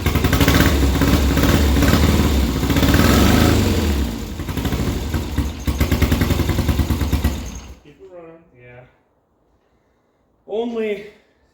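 A 1972 Triumph 650 Bonneville engine runs loud and close with one cylinder misfiring, a rough steady drone that cuts off abruptly, after which voices talk briefly.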